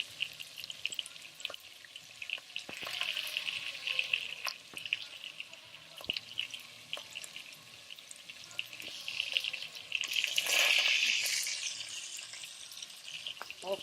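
Oxtail pieces frying in a pot in a home kitchen give a steady, moderately loud sizzle with scattered crackles and a brief surge of running-water-like hiss near the end; no one speaks.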